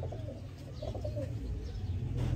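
Sialkoti pigeons coo softly in a loft over a constant low hum, their murmuring calls overlapping without a break.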